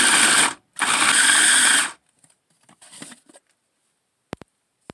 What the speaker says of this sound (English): put it in your food processor. We're just going to break this down until it's kind of crumbly